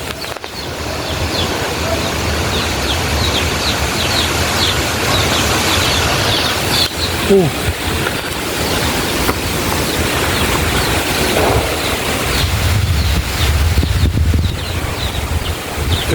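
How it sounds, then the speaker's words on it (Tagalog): Strong typhoon wind roaring and gusting through trees during a storm, a loud continuous rushing that buffets the microphone, with faint voices now and then underneath. "kakusog ang hangin oh"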